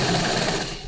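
A sewing machine runs steadily, stitching a garment sleeve, in one continuous close whir that fades slightly at the end.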